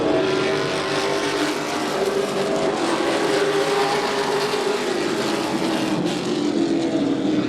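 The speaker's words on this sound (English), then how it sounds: "Everyone single file now with 25 laps to go in our Pro Truck Series." Pro Truck Series race trucks circle the track in single file, a loud, continuous roar of engines that stays steady with slight swells as trucks pass. No one talks.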